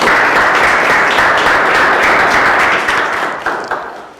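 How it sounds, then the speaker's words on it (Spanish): A room of people gives warm applause at an astrophotography talk, with loud, close, dense clapping that thins out and fades in the last second. "Si alguien te da un cálido aplauso."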